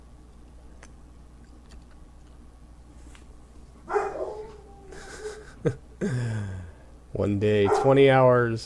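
A dog in the background gives a sharp bark and whining, howl-like cries, mixed in with someone talking over it in a quiet room.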